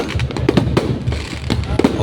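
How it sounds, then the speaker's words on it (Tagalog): A fireworks display at Seaside Mall of Asia pops and bangs in quick irregular bursts, close and loud, with crowd noise underneath. "napakaganda ng fireworks display dito sa Seaside Mall of Asia"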